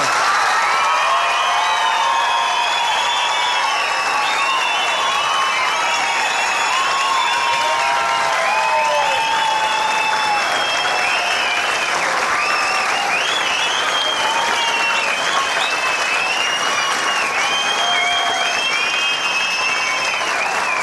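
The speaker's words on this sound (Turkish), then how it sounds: "Merve'yi destekleyenler alkışlayabilir mi?" A television studio audience at a Survivor final applauds loudly and continuously, with cheers, whoops and shrill shouts rising over the dense clapping.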